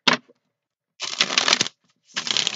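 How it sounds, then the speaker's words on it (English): Bursts of tarot card shuffling: a short riffle, then a longer rustling shuffle, then another starting, close and fairly loud with silence between. "One more shuffle for you air signs"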